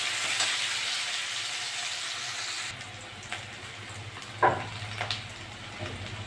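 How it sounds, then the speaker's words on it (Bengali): Onion frying in oil for a spicy pangas fish curry: a soft steady sizzle, fairly quiet, with a few stirring scrapes and clinks near the pan and no talking. "ওই তেলে আমি পেঁয়াজ দিয়ে দেবো। পেঁয়াজটা একটু ভেজে নেব।"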